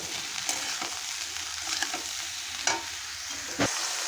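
Morola fish and bottle gourd with ginger are stirred in a pan over a soft sizzle, with a few sharp spatula scrapes and knocks standing out.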